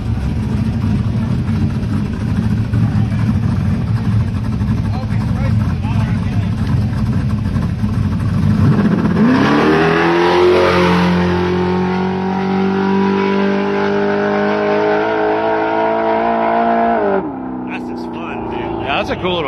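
Datsun drag race car at a street outlaw grudge racing event, engine revving loudly then accelerating hard away with rising pitch, crowd and commentary noise underneath, fading after about seventeen seconds.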